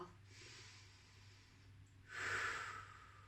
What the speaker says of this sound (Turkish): Bir derin nefes al.